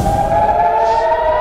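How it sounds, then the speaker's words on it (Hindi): Air raid warning sirens wail in Israeli cities under missile and drone attack, a loud steady tone holding without a break. "इसराइल के दोनों शहरों में खतरे के सायरन बजना शुरू हो गए हैं।"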